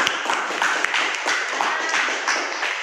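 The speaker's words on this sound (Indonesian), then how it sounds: "Tepuk tangan dulu, Nana." A junior high classroom claps for a student group after a presentation, a brief close burst of hand claps with a loose rhythm.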